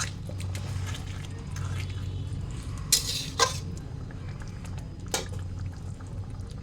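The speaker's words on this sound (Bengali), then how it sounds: "সামান্য একটু গরম জল দিয়ে এটা ঢেকে দেবো, তাহলে গাজরটা সফট হয়ে যাবে" Hot water poured over carrots in a pan makes a few short splashing hisses, two close together and one later, above a low steady hum and faint background clatter.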